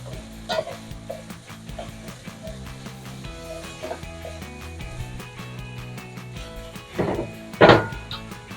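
Potatoes frying in a pan as they are stirred: intermittent sizzling under repeated scraping and knocking of a utensil, with a louder clattering burst near the end.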